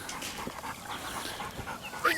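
A hunting dog pants rapidly and whimpers at close range outdoors on a deer hunt in New Zealand, with a sharper yelp near the end and voices faintly underneath.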